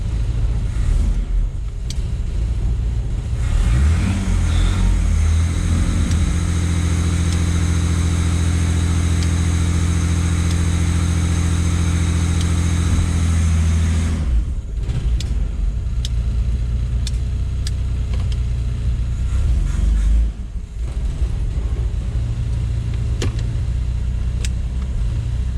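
A Volvo 960 with a swapped carburetor drives off with a loud, steady engine drone that climbs in pitch under acceleration, drops briefly as it shifts into second gear, then carries on at a lower, rougher note.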